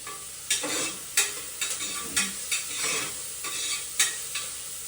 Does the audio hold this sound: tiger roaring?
no